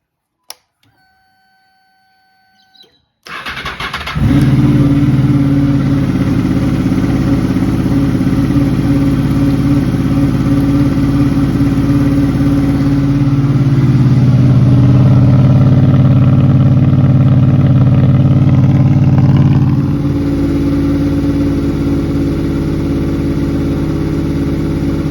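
A Honda VFR800F RC46 VTEC motorcycle cranks over and fires, then settles into a loud, steady idle as it warms up, the revs shifting partway through and dropping slightly near the end, with no talk.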